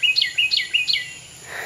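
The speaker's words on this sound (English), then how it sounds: "Oh, birds are being very loud." Garden birds in late June sing loudly and close by, with three quick bright chirping phrases in a row followed by a fainter call, over a quiet background.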